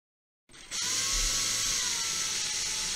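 A drill bores holes into the ears of a homemade binaural microphone head. It starts abruptly and keeps whining steadily up close, with no talking.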